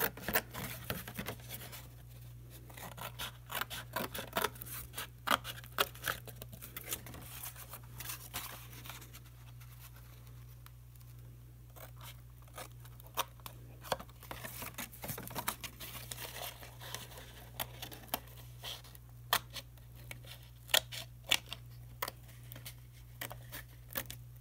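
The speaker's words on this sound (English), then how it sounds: "Wipe the glue off the edges and then just trim it down." Steady, close scraping and snipping while glued paper edges are trimmed on a handmade clipboard, crinkly irregular strokes over a constant low hum, with no voices.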